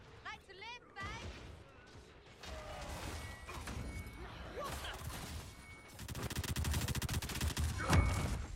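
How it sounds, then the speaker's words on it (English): Rapid machine gun bursts in the video game Dragon Age Inquisition rattle in dense volleys, growing louder toward the end, mixed with crashes and other game effects while people speak over it. "Who is shooting a machine gun?"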